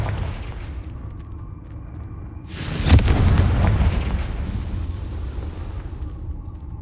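A Confringo fire spell exploding in the game Hogwarts Legacy: a single loud, close boom that bursts out suddenly and then rolls into a long fading rumble.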